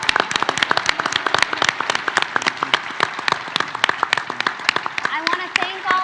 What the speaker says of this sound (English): So let's just all give those guys and gals a round of applause.